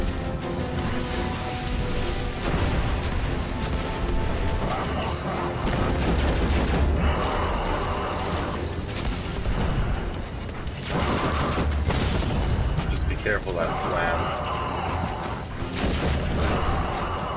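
Continuous loud game combat from Destiny's Prison of Elders, with repeated gunshots, booms and mechanical clanks layered densely over one another throughout.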